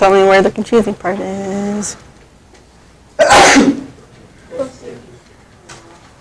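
One sharp, loud sneeze bursts out in a classroom, preceded by a person speaking and followed by quieter background murmurs.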